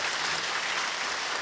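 Dense, steady applause from an audience at a public forum in Chonburi, an even wash of many hands clapping throughout with no voices standing out.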